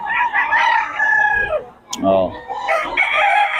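Young roosters (stags) crow at a poultry market, two drawn-out cock-a-doodle-doo calls close by with a short gap between them, and a man's brief exclamation in the middle.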